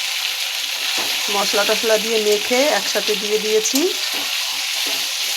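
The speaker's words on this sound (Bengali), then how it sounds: "একসাথেই ভাজা হচ্ছে মাংসর সাথে" Spiced meat and potatoes fry together in a pan with a steady, close sizzle throughout, while someone talks over the cooking.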